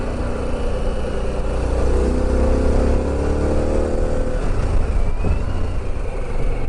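A Harley-Davidson Pan America motorcycle's engine drones steadily while riding, its pitch swelling under acceleration before settling, loud and continuous amid road and wind noise.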